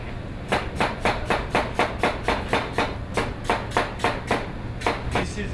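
A knife slices through a peeled, soaked lotus root on a cutting board in a steady run of about twenty crisp, evenly spaced chops, close and clear over a low background hum.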